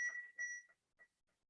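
An AED defibrillator gives two short electronic beeps followed by a few fainter, fading blips, sounding quiet and close with no talking.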